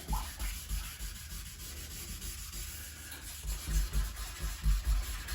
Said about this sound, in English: when we get to the transition between the 500 grit and the 1000, we'll just feather it in.